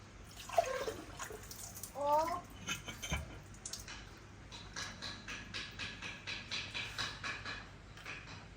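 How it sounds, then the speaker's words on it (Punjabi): Water pouring from a clay pot into a vessel, a steady run of close, gurgling trickles and drips, with brief talk near the start. "ਅਜੇ ਹੁਣ ਘੜੇ 'ਚ ਪਾਣੀ ਪਾਇਆ"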